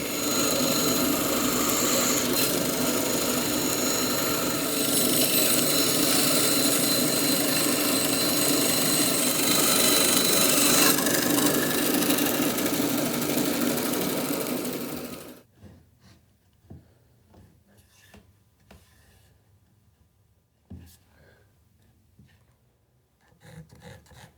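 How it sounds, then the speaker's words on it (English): A small bandsaw fitted with a half-inch blade cuts through wood for a boat transom frame, giving a loud, steady whirring buzz for about fifteen seconds before stopping, followed by faint knocks and handling noises. "So I'm going to use this little tiny bandsaw. It's only got a 1/2-inch blade in it, but it cuts as if it were a giant machine."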